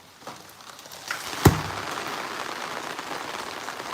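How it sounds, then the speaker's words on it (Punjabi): Heavy rain pours steadily onto a house roof, a dense, even hiss that thickens over time, broken by one sharp knock or crack. "ਜਦੋਂ ਇੰਨਾ ਮੀਂਹ ਪੈ ਰਿਹਾ"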